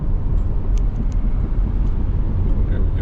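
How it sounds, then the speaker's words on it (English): A 2016 Chrysler Town and Country minivan cruising along a road, heard from inside as a steady low engine and road rumble with continuous tire noise, a few faint brief clicks above it, no one talking. "There we go, cruising down the road."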